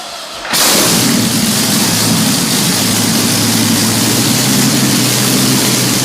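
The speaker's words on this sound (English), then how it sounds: "Ah, the unmistakable song of the Merlin." A Rolls-Royce Merlin aircraft piston engine catches after a brief lull and runs at a loud, steady, broad roar with a deep low throb, close and continuous throughout.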